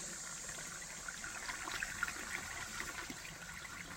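Water trickling through a gravity-fed water filter hung from a tree on the Appalachian Trail, a faint continuous stream with occasional soft drips and plinks, no talking.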